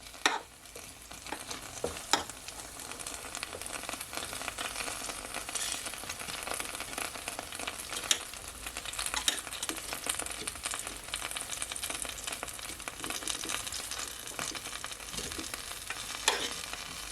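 Crispy garlic parmesan chicken wings being handled in an air fryer produce a constant dense sizzle and rustle, with scattered light clicks and scrapes of the wings being turned over, close and steady throughout.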